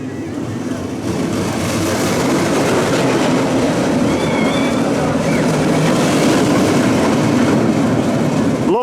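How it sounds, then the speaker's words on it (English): A roller coaster train climbs a fast booster-wheel lift hill at a theme park, giving a steady, loud mechanical rumble and rattle that holds throughout, with faint squeaks above it. "here it comes, quite a fast booster wheel lift hill"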